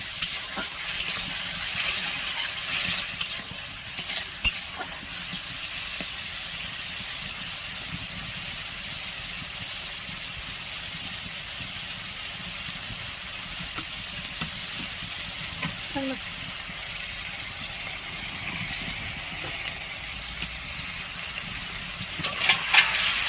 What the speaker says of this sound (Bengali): খুব ভালো করে মশলাটা কষে নেব, যাতে আদা রসুনের কাঁচা গন্ধটা যেন না থাকে।